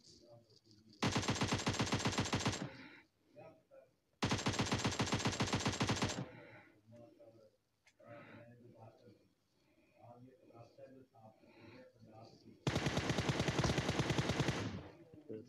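Rapid automatic gunfire in a video game shootout comes in three loud sustained bursts, each about two seconds long, with someone talking in the gaps between them.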